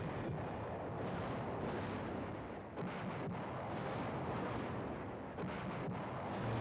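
Artillery barrage in the Command Ops 2 wargame with 105mm guns, a continuous dense rumble of distant shelling with a few sharper bursts, steady and fairly faint.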